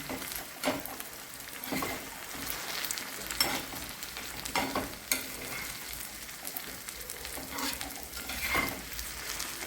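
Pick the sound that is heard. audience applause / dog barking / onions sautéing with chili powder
onions sautéing with chili powder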